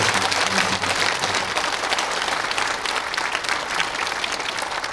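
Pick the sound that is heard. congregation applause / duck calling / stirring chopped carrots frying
congregation applause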